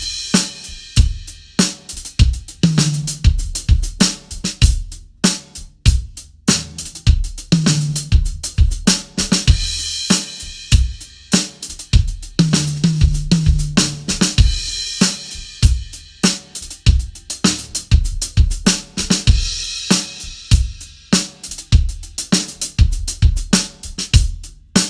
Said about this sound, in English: I'll be adding a triplet at the end of the bar of the simple pattern to introduce the linear phrase.